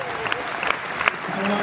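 A concert audience at a show in Bournemouth claps throughout, a steady wash of applause with scattered louder claps and a voice speaking over it.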